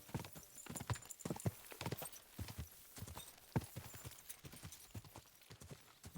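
A horse's hooves clip-clop steadily in the medieval game Kingdom Come: Deliverance II, a quick, close, rhythmic trot carried on without talk at low volume.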